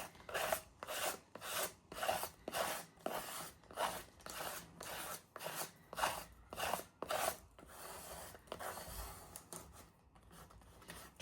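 A sander works paint back off an art journal page in soft, rhythmic rasping strokes, quiet and close, with the pace easing toward the end.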